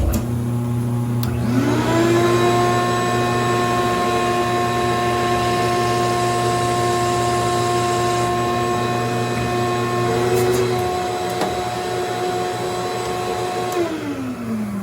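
A drill with a 31/32-inch bit bores a finger hole in a Hammer bowling ball. A loud, steady whining motor tone spins up, holds for many seconds, then winds down near the end, with no talking.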